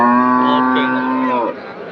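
A loud, drawn-out cow moo at the Anthiyur cattle market in Tamil Nadu, with a steady harmonic tone lasting over a second, then breaking off into quieter background noise.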